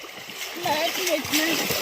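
People splash and play in a river, with close bursts of water splatter mixed with voices talking.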